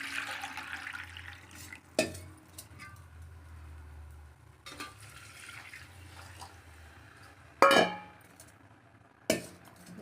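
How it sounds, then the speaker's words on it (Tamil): Water poured into roasted semolina in a pan, with a light splashing pour early on, then a few sharp clinks and knocks of utensils and vessels against the pan, close by and intermittent. "அதில் 2 கப்பு ஊற்றணும் தண்ணி."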